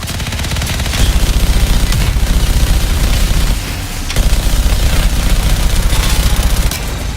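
Rapid, heavy gunfire and booming explosions from the sci-fi shooter video game Anthem, loud and dense with steady automatic bursts across the whole stretch and one brief lull near the middle.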